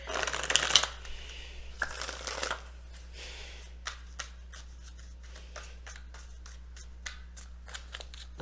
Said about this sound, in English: Let me get one more shuffle in here.